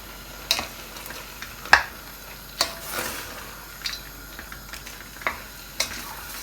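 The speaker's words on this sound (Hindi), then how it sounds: "इन तमाम चीज़ों को अब हम मिक्स कर लेते" Spoon stirring kasuri methi with crushed garlic and ginger for chicken shami kebab, a run of light scraping clinks against the pot coming every second or so, close and fairly quiet, with no voice.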